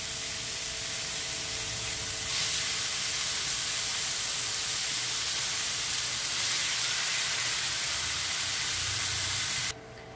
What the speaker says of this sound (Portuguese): A gente frita toda a carne e vai retirando da panela